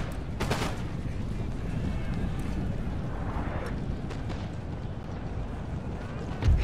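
Bursts of gunfire as soldiers open fire in a battle, several sharp shots early on over a constant rumbling din, with voices talking underneath.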